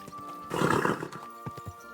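A horse whinnies loudly in Kingdom Come Deliverance 2, one close neigh followed by a few hoof thuds.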